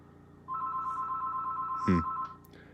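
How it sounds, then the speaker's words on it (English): A telephone rings at an estate-sale shop, a steady electronic bell tone sounding once for a couple of seconds, close and clear, briefly crossed by a short low rattle near the end. "somebody's calling right now"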